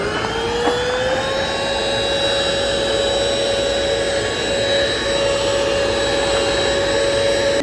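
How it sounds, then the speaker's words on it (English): A vacuum cleaner sucking dog hair out of a car seat's carpet. Its loud, steady whine rises briefly in pitch at the start, then holds at a constant roar with no speech. "so let's see if it'll vacuum some of that up"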